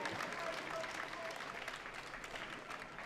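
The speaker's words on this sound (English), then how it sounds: "Big round of applause." Crowd applause at a college boxing club fight night, a steady dense wash of clapping lasting throughout, moderately distant and even in level.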